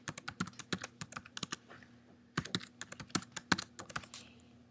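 Password typed on a computer keyboard: a quick burst of close, crisp key clicks, a brief pause, then another rapid run of keystrokes in a quiet room, with no talking.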